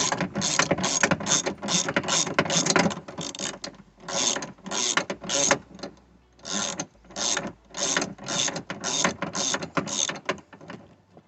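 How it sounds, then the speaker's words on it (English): A 10 mm socket wrench ratchets nuts off the rear window regulator of a 2002–2006 Cadillac Escalade, giving rapid, close bursts of clicking strokes in a steady rhythm with short pauses between them and no talking. "we use a 10 millimeter socket wrench. And I just take off those."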